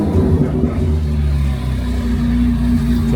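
A Chevrolet Corvette C8 Z06 idles steadily just after being started, a loud, deep engine rumble with a constant low throb and no revving, close by.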